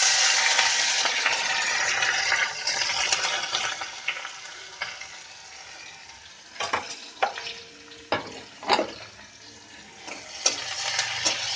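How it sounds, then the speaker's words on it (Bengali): Chopped onions frying with egg masala in a pan: a steady hiss of sizzling broken by several clattering stirring scrapes toward the end, with no voices. "একটু নেড়ে চেড়ে এটার মধ্যে পেঁয়াজ কুচি দিয়ে দেব।"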